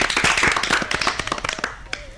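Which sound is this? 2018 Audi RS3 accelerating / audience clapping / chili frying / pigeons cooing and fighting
audience clapping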